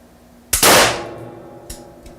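A hand-held WWII German anti-tank grenade launcher fires: a sharp launch blast followed by a loud roaring whoosh that decays, then a few fainter distant thuds of impact on the target.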